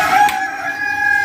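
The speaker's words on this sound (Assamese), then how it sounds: "এইটো চিল্কি চিল্কি হয় চিল্কি চিল্কি মুৰ্গী" Silkie chicken at a mini zoo in Goalpara, Assam, letting out one loud close crow, a short tonal call with a strained harmonic edge, heard alone.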